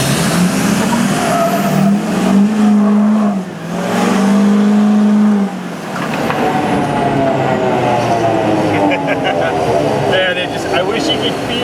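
A loud off-road AT-RV truck engine roars and revs continuously, pitch climbing and falling through gear changes, with a voice briefly heard over the din.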